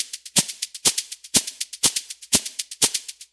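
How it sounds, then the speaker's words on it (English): A sampled shaker loop plays in Ableton Live, a steady rhythmic pattern of crisp, bright shakes with stronger accents about every half second, close and alone. "So we'll start first with the shaker loop."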